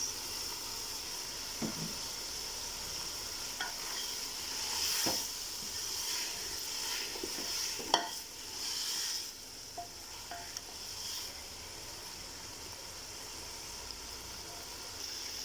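Ginger garlic paste sizzles in a pan of frying beef keema for aloo keema, a soft steady hiss with occasional stirring scrapes and clinks, fairly quiet and close, with no voices.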